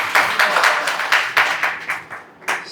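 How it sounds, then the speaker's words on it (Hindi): An audience claps together for Shivani Mata Ji during a spiritual talk at a gathering. The applause is loud and close, made of quick, steady, overlapping claps that pulse evenly and then begin to thin out toward the end. "ताली बजाए शिवानी माता जी के लिए"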